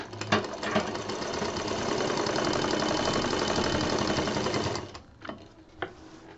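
A sewing machine runs in one steady, continuous burst, stitching the folded inner fabric of a patchwork bed cover, then stops, leaving a few scattered handling clicks and rustles.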